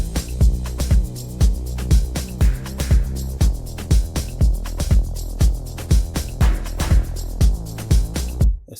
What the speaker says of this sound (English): I automated the cutoff here from the filter there so that it can go higher